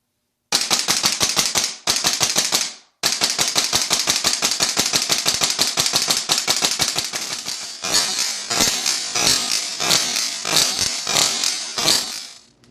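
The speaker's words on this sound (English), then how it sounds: "I'm gonna do a little bit of rapid fire." Airsoft gas blowback M4 rifle fitted with a custom buffer firing rapidly, loud sharp shots in fast even bursts close up with brief breaks between strings, the later shots a bit duller and thumpier.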